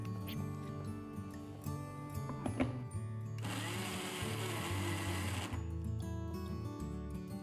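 A mixer grinder grinds soaked dal with turmeric in a loud, harsh whirring burst lasting a couple of seconds, framed by quieter kitchen sounds and background music before and after.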